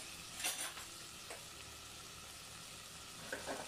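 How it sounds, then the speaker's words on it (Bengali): Potatoes and spices stirred in a pan for a small-fish curry, a faint steady sizzle with a few soft scraping stirs of a utensil near the start and end. "আলুটা দিয়ে ভালো করে নেড়ে দিব যাতে আলুর ভিতরে সবগুলো মশলা ঢুকতে পারে।"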